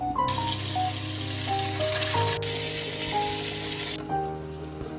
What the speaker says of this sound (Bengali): ভাজার সময় কিন্তু আমি অল্প একটু নুন আর হলুদ দিয়ে ভালো করে লাল লাল করে ফুলকপিগুলোকে ভেজে নেব